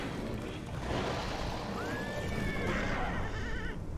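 A horse in the video game Castlevania: Lords of Shadow neighs once in a rising, wavering whinny over a rumbling, noisy background, mid-distance and moderately loud.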